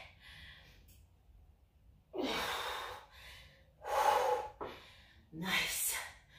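Heavy breaths and forceful exhales come from someone doing a boot camp cardio workout, arriving as three or four loud, separate bursts with quiet gaps between them.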